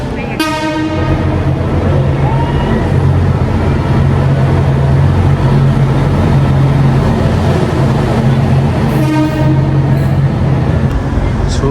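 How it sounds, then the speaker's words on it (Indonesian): The Whoosh feeder train pulls into a Jakarta–Bandung high-speed rail station platform with a loud, steady rolling rumble, and its horn or chime sounds briefly at the start and again near the end. "Akhirnya kereta feedernya datang juga."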